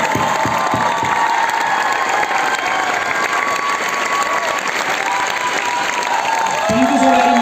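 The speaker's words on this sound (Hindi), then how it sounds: "मेरे आपको ताली बजानी पड़ेगी" An audience at a motivational talk breaks into sustained applause, dense close clapping that fills the whole stretch with scattered cheers and shouts mixed in.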